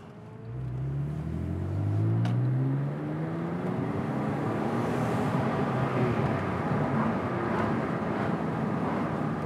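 A Porsche 911 Carrera S 997.1 flat-six exhaust burbling up close: a rising, then falling engine note with steady rumble and crackly low texture throughout, no talk.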